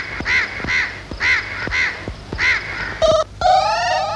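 A crow caws in a comedy scene, giving about five evenly spaced, loud, close caws, followed by two harsher and higher cries at the end, with no talk over it.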